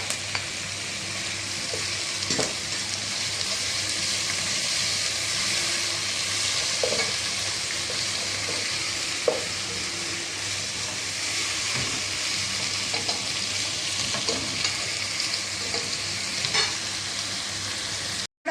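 Onions and chopped tomato frying in a pan give a steady, even sizzle that fills the whole stretch, with a few light scrapes and clicks of stirring scattered through.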